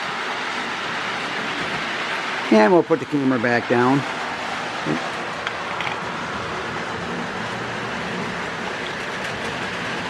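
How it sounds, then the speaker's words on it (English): A steady low mechanical hum and faint whir runs throughout as a Lionel "The General" model train circles a track, with a brief spoken remark near the start. "Great to have the train run at the same speed all the way around though."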